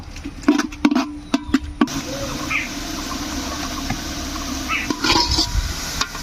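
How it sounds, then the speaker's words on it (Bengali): Thinly sliced onions frying in a pot for mutton biryani, with several sharp clanks of a spoon against metal at first and then a continuous close sizzle with stirring. "পেঁয়াজগুলা কিন্তু লাল লাল করে ভাজি নেব"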